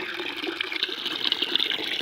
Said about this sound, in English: And as you can see, I just open a faucet.